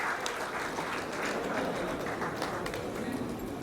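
Clapping from the audience at the Madras film audio launch greets actor Karthi onto the stage, a fairly faint, steady patter of hands heard from a distance.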